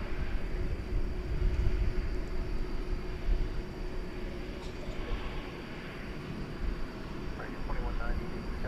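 American Airlines airliner taking off from runway 18 left at DFW, a broad steady rumbling roar that swells and holds throughout, heard from a distance with radio chatter underneath.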